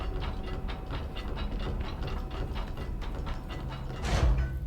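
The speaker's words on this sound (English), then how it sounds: "I love the sound design of the shelter's opening. The kind of whirring of the gears." A shelter door in Control opens with continuous mechanical whirring and rapid ratcheting clicks of turning gears, close and steady, ending in a heavier low thud as it finishes near the end.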